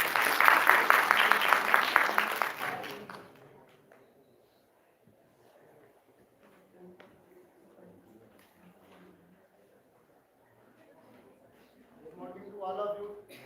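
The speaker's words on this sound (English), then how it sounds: "Huge round of applause, please." Conference audience applause bursts out loud and dense for a few seconds, then fades quickly into a near-quiet room with faint scattered murmurs and shuffling.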